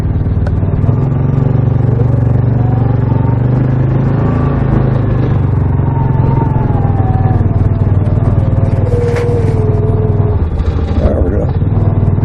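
A 2006 Yamaha Rhino FS side-by-side drives in high gear, its engine droning loud and steady up close the whole time, with pitch rising and shifting as it pulls along and some clatter.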